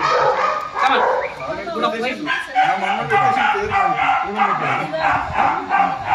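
Dogs bark and yip repeatedly at a dog training centre, fairly close and loud, with people talking over the barking throughout.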